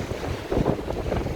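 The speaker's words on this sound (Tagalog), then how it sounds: "Lakas ng hangin." Strong wind gusting by the sea, broadband rushing and buffeting against the microphone, steady and fairly loud with surges midway, no talking.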